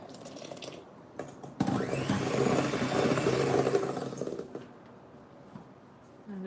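An electric mixer runs on low speed through cake batter for a lychee and raspberry cake, a steady close motor whir lasting about three seconds between brief clicks and quieter handling.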